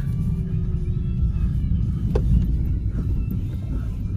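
A 1962 Rambler car rumbles steadily up the street, its engine a low continuous drone that holds close and fairly loud throughout, with a slight swell near the middle as it approaches.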